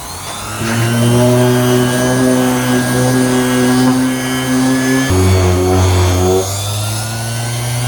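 A double action sander fitted with an orange 1300 grit pad works on a yellowed car headlight, making a loud, steady motor whine that drops in pitch partway through and keeps running.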